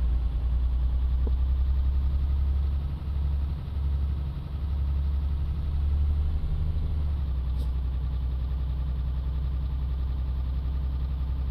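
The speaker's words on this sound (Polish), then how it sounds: "Ciągnik razem z tą naczepą, więc nawet nie wciskam gazu." A Euro Truck Simulator 2 tractor unit with a trailer coasting along without throttle, a steady, low engine drone that holds constant throughout with no one talking.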